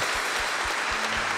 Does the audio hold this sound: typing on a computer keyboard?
no